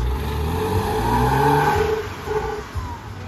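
A Porsche Boxster engine revs and pulls away nearby at a car gathering, a steady loud motor drone rising then easing as it drives off.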